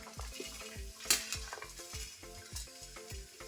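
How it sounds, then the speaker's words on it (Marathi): Onion, dal, garlic, coconut and ginger roasting in a little oil for a spice paste, with close stirring scrapes and a soft sizzle over a steady rhythmic backing beat. "कांदा, डाळ, लसूण, खोबरे आणि अद्रक हे चांगलं मी आता भाजून घेते"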